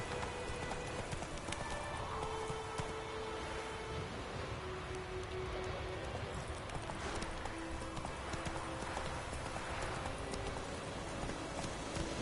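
A horse gallops in The Witcher 3, its hooves beating a steady rapid clip-clop that runs without break under ambient wind and game sounds.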